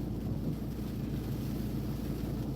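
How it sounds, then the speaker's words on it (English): Wind buffeting a car and heavy rain hitting it while driving in Scotland, a constant low roar with dense rumble and no distinct drops, steady throughout. "it's really windy and chucking it down with rain."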